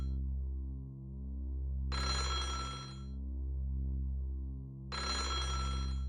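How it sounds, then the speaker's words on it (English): An old telephone with a cut cord rings in the horror game Otogirisou. Two long electronic ring bursts come a few seconds apart over a droning low tone. "Yeah, the phone with a cut cord was ringing."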